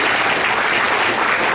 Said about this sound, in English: So I'd like you guys all to give yourself a round of applause